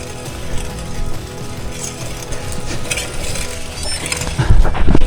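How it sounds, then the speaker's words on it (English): Gravel bike with a noisy bottom bracket and a dry, dirty chain, giving steady loud grinding and rattling while riding, with clunks rising toward the end. "bottom bracket is making loads of noise, dry chain is covered in shite"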